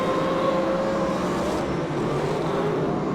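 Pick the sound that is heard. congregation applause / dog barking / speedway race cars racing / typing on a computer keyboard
speedway race cars racing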